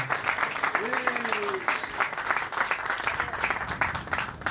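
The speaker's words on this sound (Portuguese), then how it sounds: "portanto peço também uma salva de palmas para ele" An audience at a book launch applauds with a continuous rattle of many hands, while a voice briefly speaks over the clapping partway through.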